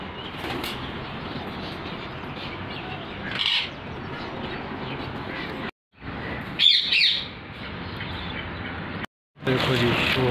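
Pet parrots and other birds chirping and squawking in the morning, a busy continuous chorus close by with sharper calls standing out and brief breaks in the sound.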